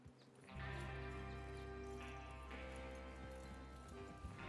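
A horse clip-clops along with a rhythmic rattle of hooves over a sustained tonal musical backdrop in the video game Red Dead Redemption 2, moderately quiet and continuous.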